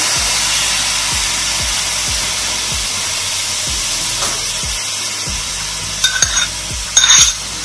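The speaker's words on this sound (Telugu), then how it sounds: "కొంచెం పైనాపిల్ని దీంట్లో ఫ్రై చేసుకున్నాము" Pineapple pieces frying in ghee in a pan, a steady loud sizzle and hiss with repeated scraping stirs, ending in a few brighter crackles.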